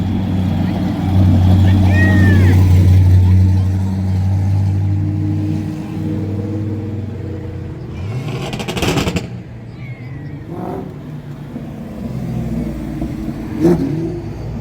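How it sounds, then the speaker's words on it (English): Race cars on Interstate 94 in Afton, Minnesota, during a 9/11 tribute run, engines droning loudly as they pass close, then rising revs and fading rumble, with a few sharp bangs and crowd noise in the background. "The race cars cruising down 94, looping back around."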